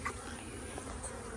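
Honey bees buzzing around a nuc hive taken off a tree, a continuous soft hum filling the short stretch without talk.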